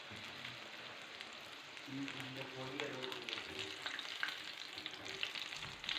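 Bread-crumbed prawns deep-fry in oil over a medium flame, with a soft, continuous, crackling sizzle and faint stirring noises.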